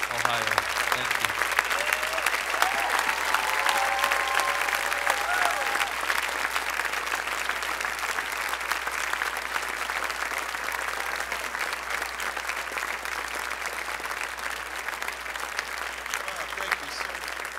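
A conference audience at Jesus Conference, Ohio, stands and applauds steadily to welcome Pastor John Arnott, a dense, sustained clapping from a large crowd that fades slightly toward the end.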